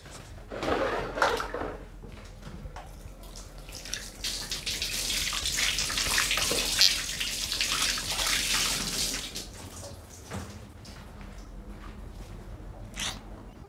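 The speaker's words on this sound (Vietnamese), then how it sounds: "Bố rửa tay." Tap water runs steadily as a dad washes his hands at a home sink, a broad continuous splashing hiss that swells in the middle and eases toward the end, with a few soft knocks and no talk.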